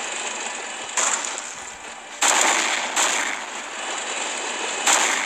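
Gunfire in a free-for-all shooter video game: sharp bursts of shots at irregular intervals over a constant bright hiss, fairly loud and with no talk over them.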